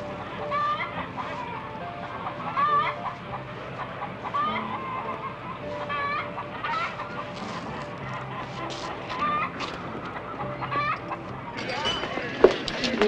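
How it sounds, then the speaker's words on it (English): Chickens cluck and chatter steadily in the background, with occasional louder squawks from a rooster or hen and a few honking fowl calls mixed in, amid general barnyard noise and no clear talk. "Chickens."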